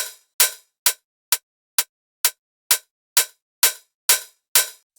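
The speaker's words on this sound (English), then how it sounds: "this hat is a hat that I made just a couple months ago and it's my go-to open hat" An open hi-hat sample with a shortened envelope is triggered eleven times at a steady, even pace, each hit a crisp, bright burst that cuts off quickly into silence.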